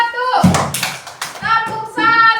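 A few sharp hand claps from elementary school children in a classroom, clapping on the teacher's count, mixed with children's voices talking over them.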